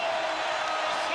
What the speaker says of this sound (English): gets a huge ovation from the crowd